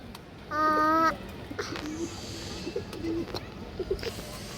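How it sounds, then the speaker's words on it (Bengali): A large female Palla line pigeon gives low, soft coos in short bursts after a brief tonal whistle-like sound, heard up close against a quiet, hissy background. "খুবই সুন্দর একটা বাগামাদি কৌতর বড় সাইজ পাল্লা লাইনের কৌতার"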